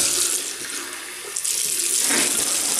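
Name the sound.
tap water running while rinsing a razor during a shave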